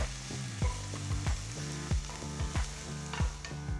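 Ginger garlic paste with chopped ginger and garlic fries in a pan, a soft sizzle broken by a spatula scraping and knocking against the pan in an irregular rhythm.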